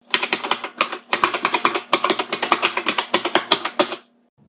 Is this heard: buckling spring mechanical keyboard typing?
yes